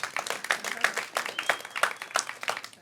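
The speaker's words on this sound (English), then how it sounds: "Give yourself a round of applause." Clapping from a comedy club audience on a Monday night, a steady close patter of many hands throughout the short stretch.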